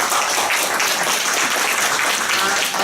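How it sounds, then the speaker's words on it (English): Audience applause at an Israel congress, dense and steady clapping from a large crowd, loud and continuous throughout. "okay, applause."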